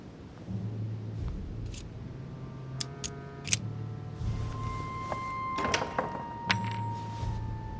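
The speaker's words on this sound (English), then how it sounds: "A metallic sound, like a key falling to the floor." A metal key drops to the floor in the video game The Council, giving a few sharp, bright clinks and taps over a low, steady ambient hum.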